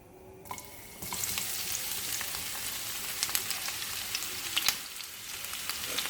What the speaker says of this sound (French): dans une poêle chaude, je viens mettre donc mon huile neutre et mon huile d'olive et je vais rajouter donc mon ail et une gousse de vanille